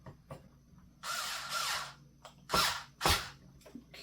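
A power driver runs screws back into a refrigerator thermostat: one longer whirring burst, then two short, louder bursts close by, with faint handling clicks between.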